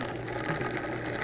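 A Vitamix blender runs while chopping onion, giving a steady, close motor whir with an even, buzzing tone throughout the short moment.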